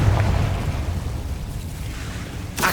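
A Confringo blasting curse explodes in the Hogwarts Legacy video game, a deep rumbling boom that decays over a couple of seconds before a short sharp burst at the end.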